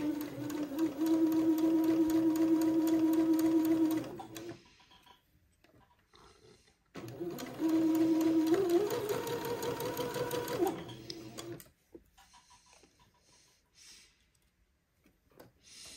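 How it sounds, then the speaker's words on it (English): A sewing machine stitches the first pass of a French seam on baby clothing fabric, two steady runs of fast whirring about four seconds each, separated by quiet pauses with faint handling sounds. "I'm going to sew the first pass of my French seam"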